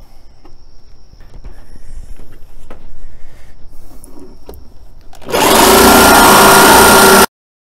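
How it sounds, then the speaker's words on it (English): A cutting tool opens the stake pocket area on a 2017 Ford F-150 bed, light tapping and scraping first, then a loud, steady high-speed buzzing cut for about two seconds before stopping abruptly. "I took the cutter pretty much almost to the edge here of my not to exceed point"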